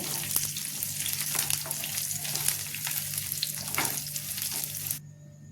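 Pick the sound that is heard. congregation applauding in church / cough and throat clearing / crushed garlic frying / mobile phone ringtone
crushed garlic frying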